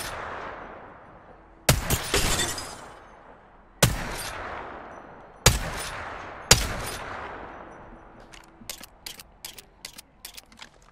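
Hipfire gunshots at a target in Apex Legends: four loud, spaced single shots with decaying tails, followed by a rapid run of sharper, quieter mechanical clicks and shots.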